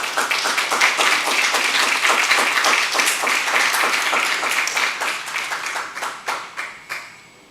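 An audience applauds an award presented to an outgoing board officer at a school district board of trustees meeting, a steady dense round of clapping that tapers off into a few last claps.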